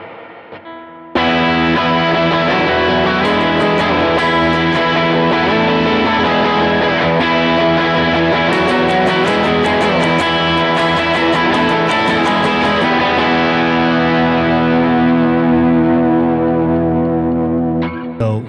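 Electric guitar playing a rhythm part through a Line 6 Helix preset, a loud sustained distorted tone with delay and chorus effects ringing continuously for over fifteen seconds.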